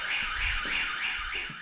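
An alarm sounds in a mansion basement with a rising and falling whooping siren tone that repeats quickly, loud and close, with some low thumps underneath.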